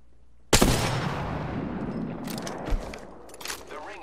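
Gunfire in a multiplayer shooter video game: a sharp loud shot opens a burst of rapid firing that rings out and decays, with a second shot cracking a couple of seconds later and brief clicks after.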